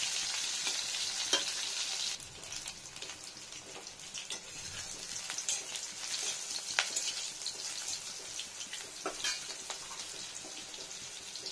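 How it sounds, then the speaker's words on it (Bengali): Spice paste of finely ground ginger frying in a pan for vegetarian bori sukto, cooked until browned and slightly scorched, gives a steady close sizzle with occasional scraping stirs and pops throughout, with no talking. "পুরো লাল করে ভাজতে হবে, ব্রাউন, একটু পোড়া পোড়া।"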